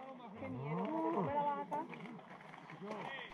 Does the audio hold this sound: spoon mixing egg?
no